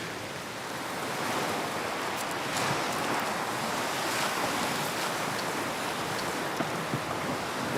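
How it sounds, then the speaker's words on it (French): Waves roll and wash on a lake during a stormy spell, a steady broadband surge close by with some wind buffeting the microphone and no voices. "Il y a des vagues aussi."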